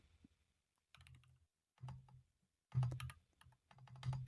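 Keys clatter on a computer keyboard as a command is typed, in four quick bursts of clicks separated by brief pauses, close and clear with no voices.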